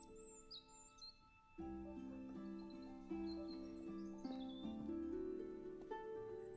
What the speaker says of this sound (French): Ah, il y a un petit moineau dans la maison.